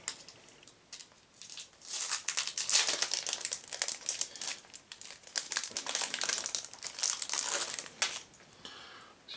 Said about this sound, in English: Let's have a look at these cards, these event cards.